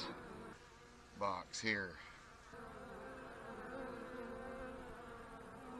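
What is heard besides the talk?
honey bees flying near hive box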